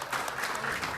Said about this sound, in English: Doctors and nurses cheering for their first COVID-19 patient.